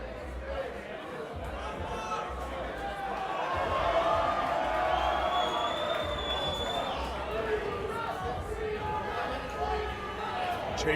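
A sold-out wrestling crowd at Longboat Hall keeps up a steady roar of chatter and cheering throughout, swelling slightly midway, with speech running through it.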